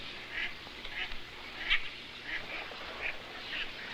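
Mallard ducks at a muddy pond: a series of short, rhythmic quacks repeating every half second or so at moderate distance, with one sharper call in the middle.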